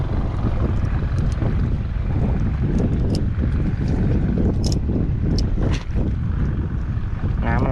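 Steady wind buffets a small fishing boat out on open water during a micro-jig fishing trip, a constant loud rushing roar with gusty low-end rumble against the microphone throughout, with no voices.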